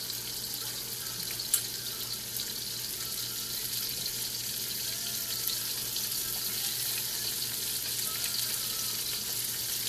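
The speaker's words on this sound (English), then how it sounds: "We're gonna go ahead and add in our zucchini." Zucchini frying in a warm pan with a steady, even sizzle that holds for the whole stretch with no talking.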